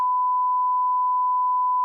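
A steady, unbroken censor beep tone holds at an even level for about two seconds, clean and alone with no other sound around it.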